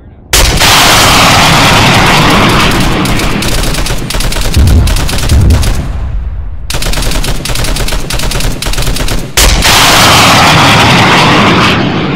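Loud, sustained automatic gunfire in ARMA 3, long rapid bursts with brief gaps between them, heavy and close over a roaring aircraft-like drone.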